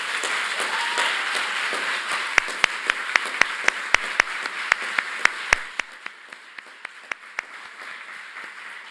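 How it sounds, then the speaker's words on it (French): A courtroom audience applauds, a dense wash of clapping that thins out into a few scattered, distinct claps before fading. "Auguste Assemblée, un tonnerre d'applaudissements pour Pierre-Damien Fougou."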